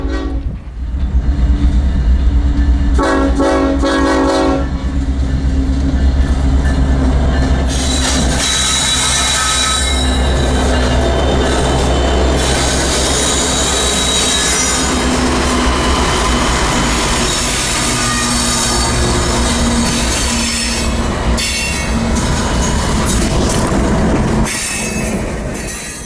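A 12,000-ton Ferromex iron-ore freight train from Manzanillo to Monterrey, hauled by five distributed SD70 locomotives, rumbles past loudly while slowing on dynamic braking, with a deep continuous engine roar, screeching wheels and a horn blast.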